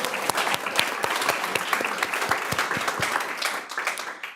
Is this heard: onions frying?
no